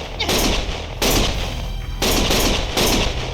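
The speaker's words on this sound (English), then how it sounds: "Stop shooting!" Loud automatic gunfire in the video game Lost Judgment, coming in several close sustained bursts separated by short pauses.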